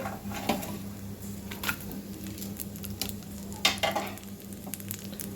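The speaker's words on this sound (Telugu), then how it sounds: "ఎండుమిరపకాయలు కూడా వేగినాయండి ఇప్పుడు దానిలో నెయ్యి వెల్లుల్లి గబ్బాలు కూడా వేసేస్తున్నాను" Ghee, garlic cloves and dried red chillies frying together in a pan, a steady soft sizzle with intermittent stirring scrapes and clicks of a spoon, close up and without talk.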